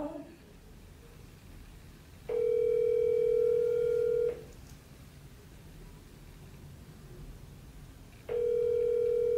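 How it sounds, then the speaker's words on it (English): A phone call rings out unanswered: two long electronic tone bursts, each about two seconds, separated by a pause, clear and steady over a faint background hiss, with no talking. "Answer the phone."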